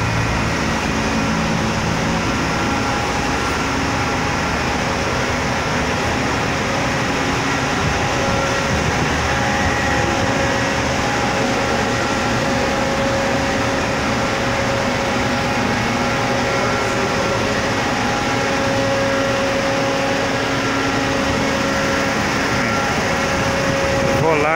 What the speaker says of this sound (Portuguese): Um micro ônibus